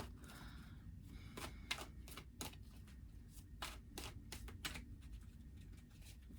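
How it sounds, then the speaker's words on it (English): Tarot cards being shuffled close by, a series of crisp riffling clicks and slaps in uneven bursts over a steady low room hum, no voices. "Lots of shuffling for you today"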